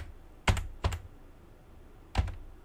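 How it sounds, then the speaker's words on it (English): Three sharp clicks come from a clicky computer keyboard sitting right next to the microphone. The close, loud keystrokes are spaced apart, two in quick succession and one after a pause, with quiet between them. "this is my keyboard. So it's right next to the microphone, and so it sounds really loud."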